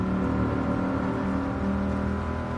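Steady engine drone from a car with a six-speed gearbox in Gran Turismo, driven with a G29 wheel, holding a constant high hum at speed without any breaks.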